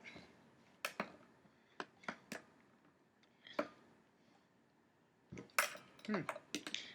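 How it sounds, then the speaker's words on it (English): A small tool pries the volume potentiometers off a guitar body, giving a series of sharp metallic clicks and clinks with quiet pauses between them and a denser cluster of snaps near the end, close up. "with this cool little device, I'm just going to pop off all the volume pots"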